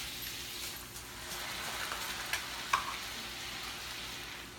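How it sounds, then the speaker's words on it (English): Brandy hits a hot steak pan sauce with a steady, close frying hiss, broken by a couple of small pops near the end, with no voices. "So now it's time to add the brandy"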